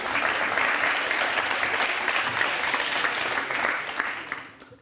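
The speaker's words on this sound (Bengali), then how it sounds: "এতেও হাততালি।" A studio audience on a televised courtroom-style interview show applauds steadily, a dense clapping wash that holds for several seconds and then fades out.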